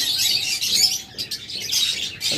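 Violet opaline budgerigars in a bird shop chirp in dense, bright twittering bursts, loud and close, with a brief lull midway before the chattering picks up again.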